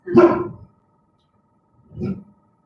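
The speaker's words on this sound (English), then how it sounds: "that unpleasant surprise of a dog bark" A dog barks twice nearby, a loud full bark followed after a pause by a second shorter, softer one, in an otherwise quiet room.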